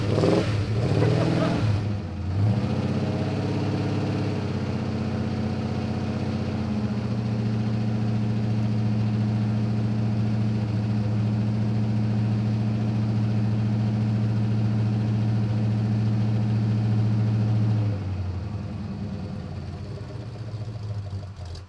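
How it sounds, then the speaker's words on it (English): Jeep J10 full-size truck engine just fired up and running rough, a loud low steady drone that wavers as it struggles to hold idle, then drops off near the end. "So it fired up and it wants to run. It's struggling to idle."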